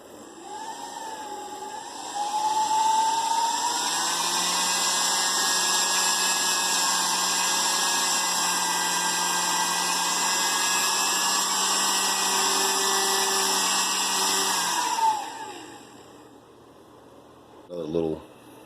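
Small electric motor driven by wireless power spins up to a steady high whine, runs close and loud for about twelve seconds, then winds down, followed by a brief rattle.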